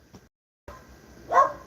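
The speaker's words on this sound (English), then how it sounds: "Y'all see that dog talking back at me?" A dog gives one short, sharp bark close by near the end, after a brief faint sound at the start and a stretch of low background noise.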